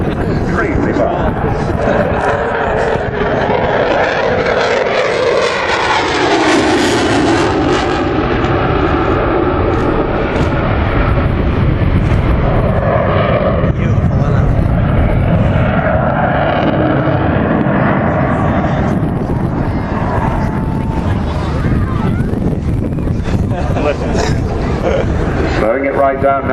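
A Eurofighter Typhoon jet roars loud and sustained during an air show display, its engine pitch sweeping as it passes and slows, with a commentator talking over it throughout.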